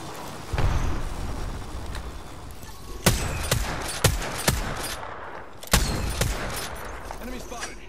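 Apex Legends gunfire cracks in distinct single shots, five or six sharp reports spaced about half a second to a second apart. They ring over a low busy game background, with voices in the background at times.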